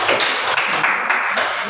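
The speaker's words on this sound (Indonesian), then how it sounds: "Tepuk tangan untuk kelompok 3" A classroom group claps for the third group after its presentation, a dense, steady patter of many hands filling a short burst with no talk.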